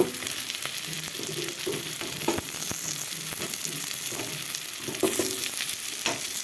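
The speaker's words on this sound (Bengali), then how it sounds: "আলুটা এখন ভালো করে ভেজে নিব পেঁয়াজ কুচির মধ্যে" Potatoes and chopped onion fry in a pan with a steady, close sizzle and crackle, broken by occasional scrapes and clicks of stirring. Nobody speaks.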